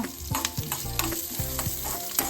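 Byadgi chillies fry in a pan for a Mangalore-style basale pundi, crackling close up with a rhythmic series of stirring scrapes and clinks and no talking.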